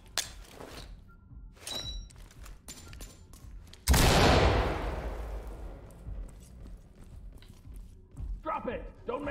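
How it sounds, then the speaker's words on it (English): Flashbang grenade going off in the tactical shooter Ready or Not: a sudden loud bang followed by a long ringing, decaying wash, set among scattered gunshots, clanks and voices talking. "I'll throw a flashbang"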